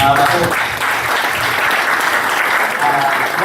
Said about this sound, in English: One more round of applause for Troy Kirby